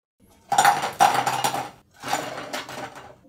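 Crispy fried onion fritters (piyaju) are lifted and jostled, giving two close bursts of brittle, crunchy rattling against a hard surface.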